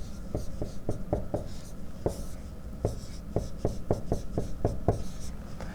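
A pen writes out an equilibrium constant expression during a chemistry lesson, producing a close series of short scratchy strokes and taps in an uneven rhythm, alone without talk.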